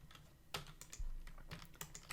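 Typing on a computer keyboard while working in Model Creator for GameMaker: a series of crisp, close key clicks and one heavier thump, in an irregular rhythm with no voices.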